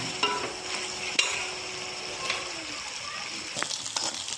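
A spice mixture is stir-fried in a pan for a bombil rice dish, with soft scraping and a low sizzle under scattered clicks of the spatula, close and moderate, with someone talking over it.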